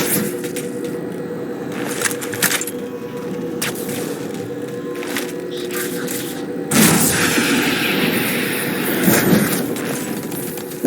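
Starboard artillery fire booms in Halo 4 aboard a gondola, heavy repeated blasts over a constant mechanical drone, growing louder and denser in the second half, with a voice briefly heard.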